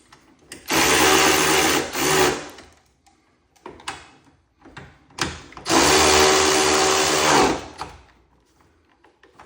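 A power tool drives a bolt during an Ironman lift install on a 2024 Subaru Crosstrek Wilderness: two loud, buzzing whirring bursts separated by brief clanks and pauses, close by, with no voices.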